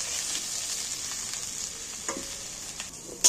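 Cut eggplant pieces fry in hot oil with a steady bright sizzle, broken by a few soft stirring clinks and one sharper scrape near the end, no voices.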